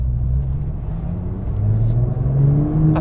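Porsche GT2 RS sports car on the move, a loud, close low engine drone from inside the cabin that rises steadily in pitch as the car accelerates, no voices.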